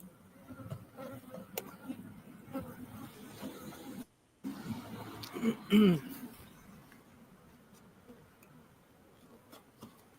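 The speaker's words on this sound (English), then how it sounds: "Box full of bees." Honeybees in a box give a low, droning buzz that runs throughout with a brief dropout, growing louder for a moment near the middle, with handling noises and faint voices around it.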